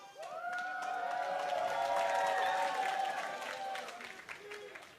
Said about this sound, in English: Crowd is ready